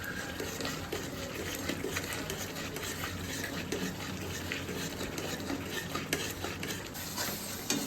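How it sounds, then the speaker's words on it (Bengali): Spice paste being sautéed in a pan ahead of adding mutton, with steady scraping and stirring strokes over a continuous sizzle, close and fairly even throughout, no voices. "একটু সময় ধরে কষাতে হবে মশলাটা"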